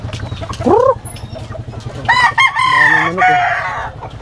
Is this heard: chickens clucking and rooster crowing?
yes